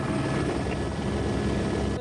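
A helicopter flies high over a winding canyon on a desert rally stage, its rotor and engine roar loud and continuous from start to finish, with no voices.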